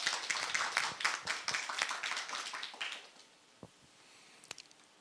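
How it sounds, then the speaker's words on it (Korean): Applause from an audience at a public policy forum on chemical accident safety in a hall, steady clapping for about three seconds, then fading out to a few scattered isolated claps. "이 안에서도 큰 박수 부탁드립니다."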